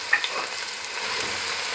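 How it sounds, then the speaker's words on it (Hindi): Onions frying in hot oil in a cooking pot, a steady broadband sizzle filling the short stretch, with a couple of brief clicks near the start and no talking. "पतीली में ऑयल डाल के गरम कर लें, इसके बाद प्याज डाल दें"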